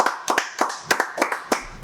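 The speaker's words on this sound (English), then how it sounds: "applause" A small group claps in a quick, uneven rhythm of about eight sharp, close hand claps, with no voices over it.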